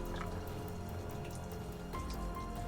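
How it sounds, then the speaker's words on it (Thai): Close, steady trickling of water flowing out inside a cave, with scattered drips and splashes, continuous throughout with no voices. "ทุกคนเห็นไหมน้ำไหลออกมา"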